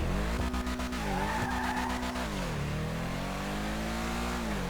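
Ubermacht Cypher coupe in Need for Speed Most Wanted, its engine droning steadily with shifting pitch as tires skid and squeal loudly up close, no talk over it.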